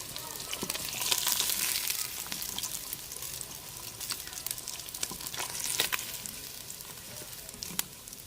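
Fish fries in a pan with oil, giving a steady, close sizzle dotted with sharp pops and crackles, with no voices.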